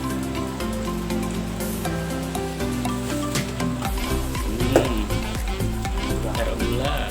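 Water spinach (kangkung) is stir-fried in a pan, giving a steady crackling sizzle with stirring scrapes. Background music plays throughout.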